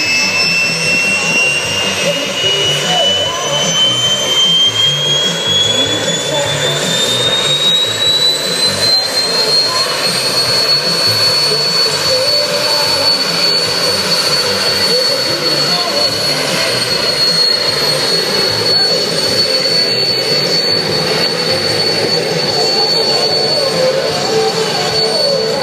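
A jet engine car at the Santa Pod drag strip roars continuously and loudly with a rising whine, the afterburner building as unburnt fuel ignites.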